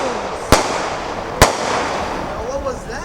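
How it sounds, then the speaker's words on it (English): Fireworks bursting over New York City on the Fourth of July: two sharp, loud bangs about a second apart, followed by fainter crackling and whistling, with a person talking in the background. "Tomorrow's 4th of July and we're doing fireworks and look at"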